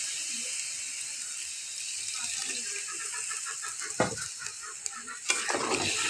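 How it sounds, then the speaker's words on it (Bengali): Radish and eggplant sizzle in a frying pan as they are stirred, giving a low continuous crackle broken by two sharp scraping clanks of the spoon near the end, with faint speech underneath. "ভালোভাবে নেড়ে দিয়ে ঢেকে দেব।"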